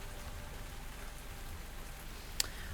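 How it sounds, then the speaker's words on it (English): Steady rain falling outdoors, a soft continuous hiss of drops with one brief sharp tick near the end, no voices. "it's raining today"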